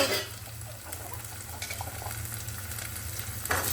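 Onions, potatoes and green chillies fry in a pan for a sabzi, a steady close sizzle with soft stirring scrapes throughout.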